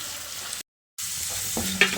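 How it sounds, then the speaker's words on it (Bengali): Potatoes fry crisp in hot oil while being stirred, a steady broadband sizzle broken by a brief silent gap, then resuming with light scraping and clinks near the end. "আলুগুলোকে আমি এরকম লালচে আর মুচমুচে করে ভেজে নিয়েছি"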